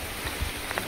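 Heavy rain falls at night beside a swelling stream, a steady close hiss of drops with a few soft thuds, brief and with no voices.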